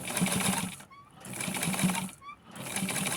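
A sewing machine stitches a doll dress with a loud, close, steady mechanical whir, stopping briefly twice and starting again each time.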